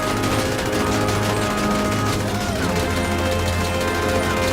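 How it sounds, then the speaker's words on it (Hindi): Rapid video game gunfire at zombies crackles continuously over a dense, loud game soundtrack, with bursts blending into a steady wash of noise. "शॉन ज़ॉम्बीज को मारने के लिए गन चलाता है"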